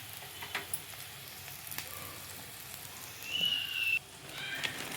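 Puffed rice crackles and sizzles in a small tempering pan, a steady close frying hiss with scattered pops and a brief brighter surge near the end.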